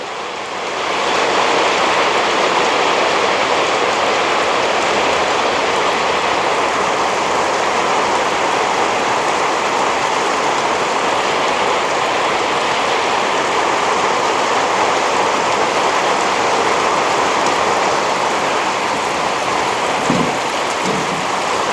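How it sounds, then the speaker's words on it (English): Steady, loud rain falls outdoors, a dense continuous hiss that holds evenly for the whole stretch with no other sounds cutting through. "hopefully you can hear me over the rain"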